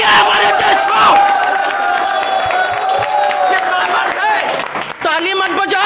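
A crowd at a public speech in India roars with loud cheering and shouts that stay dense and sustained throughout, with voices rising out of the din.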